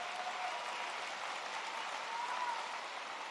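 Steady applause from a crowd at a political speech in a school near Atlanta, a dense, even wash of clapping that holds at one level throughout with no voices over it.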